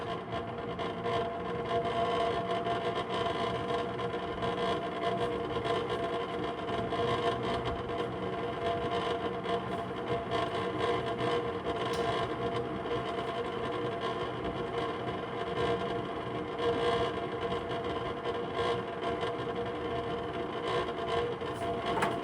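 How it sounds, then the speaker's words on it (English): 1976 Lasko 12-inch floor fan running on low speed with a persistent mechanical rattle over its steady hum, continuous and fairly close. "there goes that rattle"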